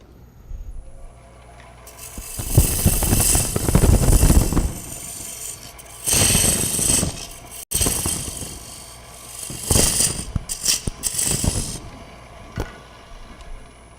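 Wood being turned on a lathe during a live demonstration, a tool cutting away heavy waste wood in loud, rough scraping bursts that swell and fade in several passes, with no talk.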